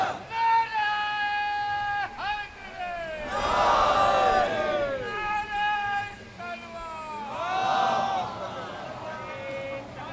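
A large crowd at a Jashn Yaum-e-Ali gathering at a Lucknow Shia orphanage chants in loud unison, with two strong, drawn-out collective shouts rising over a leader's amplified voice.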